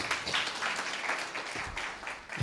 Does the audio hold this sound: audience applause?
yes